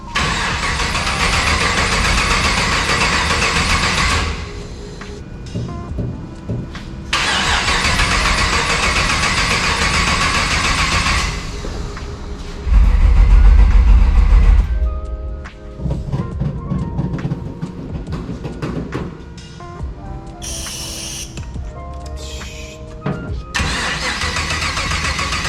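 A supercharged Chevy LS3 V8 swapped into a C10 stepside truck cranks and fires up, then alternates between loud rumbling idle bursts and quieter stretches, with one heavy rev and sputtering, uneven running near the end.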